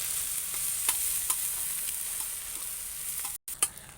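Steady close sizzling of garlic ginger paste frying in a pan, with faint scrapes of stirring and a brief dropout near the end.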